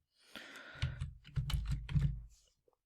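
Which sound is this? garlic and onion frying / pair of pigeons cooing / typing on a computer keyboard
typing on a computer keyboard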